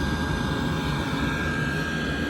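A Chinese diesel heater in a rigid box starts up, a steady, loud mechanical drone with a constant hum and rumbling low end, running without pause.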